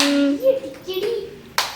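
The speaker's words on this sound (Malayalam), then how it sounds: "കൈയടിക്കടാ" A few hands clap near a child's birthday celebration, with a short burst of claps at the end and a voice in between.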